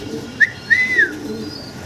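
A few short whistling notes, including one longer rising-and-falling tone, sound over faint background noise, like fancy pigeons calling nearby.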